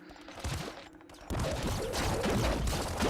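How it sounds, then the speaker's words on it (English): A plasma rifle in Nuclear Throne fires in rapid, loud, rough bursts, with a sparser volley first and then a denser, sustained stream of shots after a brief lull. "Plasma rifle's actually not doing too bad"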